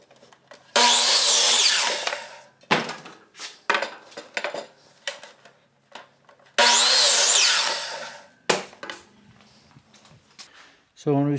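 A hand saw cuts through the wooden felloe of a two-piece stagecoach wheel rim in two long, loud stroking bursts, with short knocks and scraping between them and someone talking in pauses.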